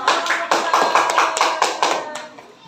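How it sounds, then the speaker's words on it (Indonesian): Students in a classroom clap for a group after its presentation, a sparse handful of hands giving about ten distinct, fairly loud claps in a loose rhythm that trails off. "Kasih tepuk tangan dong"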